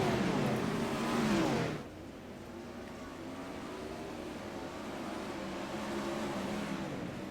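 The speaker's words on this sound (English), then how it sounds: "1 second the gap to the 2nd place car of Casey Simons" 410 sprint cars race on a dirt track at Lincoln, a loud engine roar passing close at first, then fading to a steady distant drone of cars circling.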